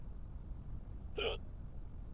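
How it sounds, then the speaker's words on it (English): One quick hiccup from a video game character, a brief sharp gulp over a low steady background hum. "And hiccups, so sneezing and hiccups."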